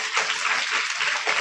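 Audience at a BT Public School poetry recital applauding, dense continuous clapping from many hands filling the whole short moment, with no speech.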